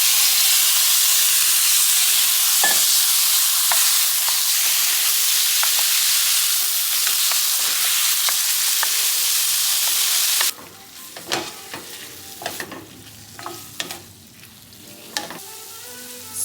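Meat drops into hot olive oil in a pan on a medium-heat stove, a loud, dense hiss that settles into a quieter crackling sizzle with scattered pops.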